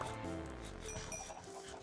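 Chickens clucking on a Minecraft farm, several short overlapping clucks and squawks mixed with other farm animal bleats, fairly close and continuous over a short stretch.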